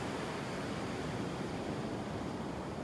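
Big ocean waves pound the shore at Delnor-Wiggins Pass State Park beach, a steady, loud, broadband roar of surf that fills the whole stretch without a break and with no voices over it.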